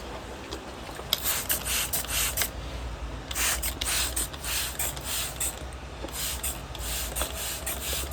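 A spray bottle spritzes repeatedly in quick bursts of hissing mist, in irregular clusters of squirts close by.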